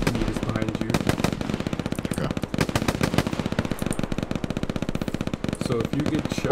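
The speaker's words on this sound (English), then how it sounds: "This guy was shooting at somebody, I don't know what he was shooting at though." Rapid automatic gunfire rattles in long, dense bursts from a shooter somewhere ahead in a combat game. It is loud and nearly continuous, and a voice talks faintly underneath.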